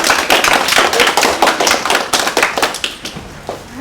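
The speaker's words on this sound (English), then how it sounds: "One last final round of applause for the end of lunch with scientists." An audience at a lunch event claps close by in a brisk, dense burst of applause that thins out toward the end, with no voices over it.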